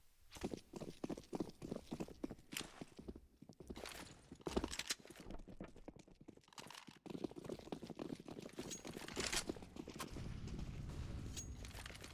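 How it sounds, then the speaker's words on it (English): Rapid footsteps echo around a corner on the Overpass map in a competitive Counter-Strike match, forming a quick run of rhythmic thuds and scuffs with a short lull before they pick up again. "Machine Gun hearing all these footsteps around the corner towards long"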